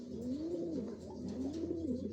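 Racing pigeons at a derby race in Candelaria, Quezon coo steadily in a low, rolling call that repeats without pause, close and clear with no talk.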